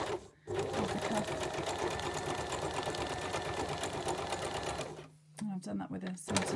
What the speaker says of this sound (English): So I'm stitching across the narrow edge of the cuff.